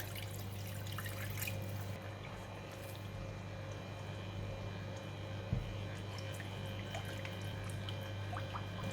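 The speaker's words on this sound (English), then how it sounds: "Add in about half a cup of water." Half a cup of water is poured into a pan of seasoning sauce for fried rice vermicelli, giving a low, steady trickle under a constant hum of kitchen background.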